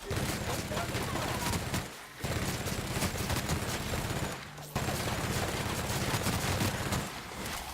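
Sustained automatic gunfire in the video game The Outer Worlds, a dense, loud rattle of rapid shots with two brief pauses, mixed with game effects and a voice speaking underneath.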